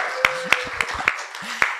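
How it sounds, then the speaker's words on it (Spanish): A handful of separate handclaps ring out from an audience at a panel event on collecting societies, spaced irregularly rather than building into full applause, with faint voices murmuring underneath. "Un aplauso para Cecilia Toso de Perú."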